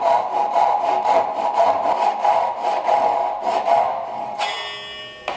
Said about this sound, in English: I'll be using my Ryoba with the rip teeth to extend these curves down to